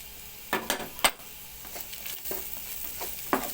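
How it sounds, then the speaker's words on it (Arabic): Minced garlic sautéing with Alexandrian sausage in a pan, a steady low sizzle broken by several sharp stirring scrapes and clinks of a utensil, close and without talk. "هننزل كده بايه؟ بالثوم المفروم، نديله بقى تشويحه حلوه"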